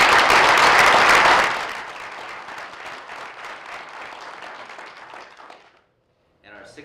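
A loud round of applause from an audience at a Danbury Board of Education meeting honoring a contest winner, dense clapping at first that thins and fades out over a few seconds before brief speech resumes.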